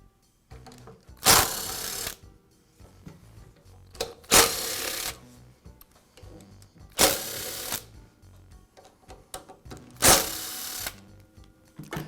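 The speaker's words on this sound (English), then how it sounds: "Now remove the 4 screws that secure the motor housing." A power screwdriver backs out the four screws holding the motor housing on a DeWALT chop saw, with four loud whirring bursts a few seconds apart separated by quieter handling clicks.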